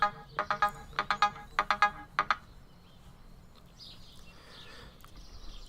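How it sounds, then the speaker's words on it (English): Phone ringtone in the video game Stardew Valley: a series of short, bright electronic chirping rings in quick bursts, then quiet game background sounds. "Oh, and I'm getting a phone call."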